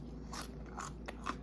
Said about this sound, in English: I'm going to take a bite of one of these just so you can hear how crunchy they are